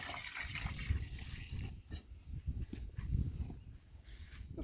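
A garden hose sprays water onto freshly poured concrete for a concrete step, a continuous loud hiss and splatter with uneven surges throughout.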